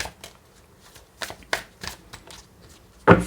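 Tarot cards shuffled by hand, a run of quick papery riffles and flicks at close range, ending in a louder, denser burst of cards slapping together.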